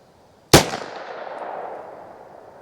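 A single loud crack of a Federal Premium Punch .22LR round fired outdoors, followed by a fading echo rolling away over the next couple of seconds.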